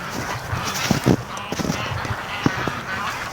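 A flock of breeding ducks, Muscovies among them, honks and quacks in the snow in uneven bursts of calls, some close and loud.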